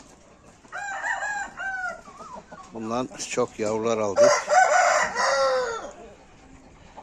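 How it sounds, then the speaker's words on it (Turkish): A four-year-old rooster crows loudly nearby in a long, drawn-out call, while someone speaks briefly over it and other chickens cluck. "Bu sevdiğim horoz 4 yaşında."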